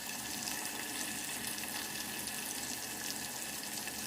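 Green chillies, tomatoes and onions frying in a pan for chicken biryani, a dense, continuous hissing sizzle at an even level throughout, with no voices.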